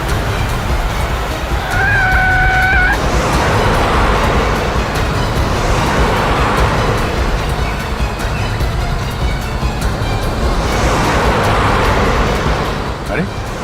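Cars driving along a road, a steady broad roar of traffic with swelling passes as vehicles go by, continuous throughout with a brief higher tonal sound near the start.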